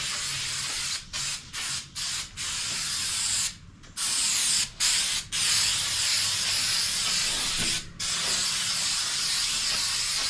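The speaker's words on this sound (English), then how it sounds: "Paint prep spray. It's basically a wax and degreaser." Long continuous bursts of aerosol wax-and-degreaser paint prep spray hissing on a first-generation Toyota pickup, broken by several brief pauses between sprays, close and loud.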